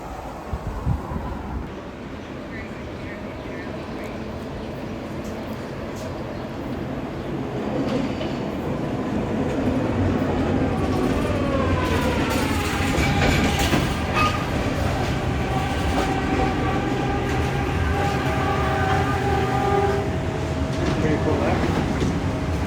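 An automated People Mover rail car in Detroit hums and rumbles steadily as it rolls along, with rising whines and faint squeals from the wheels, while people talk nearby.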